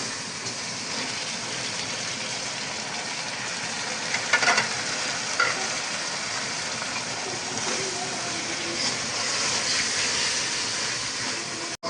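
Steady broadband sizzling of onions and tomatoes frying in a pan, continuous and fairly loud, with a few brief stirring clatters partway through.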